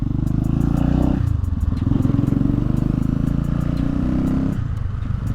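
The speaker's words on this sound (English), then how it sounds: "Nice torque low down from the 500cc engine." A 500cc motorcycle engine pulls away under acceleration, a loud, steady, close rumble with a gear change partway through and a rising drone again near the end, with no one talking.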